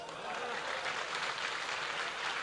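Audience applause at a Hindi humorous poetry recital, a kavi sammelan in Pali: steady, dense clapping from a crowd, continuous and fairly even throughout, heard at some distance.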